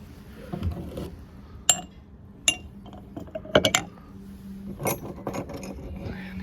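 Metal stone chisels are set into a container one after another, giving several sharp, separate clinks and knocks spread irregularly over a quiet background, close by and alone.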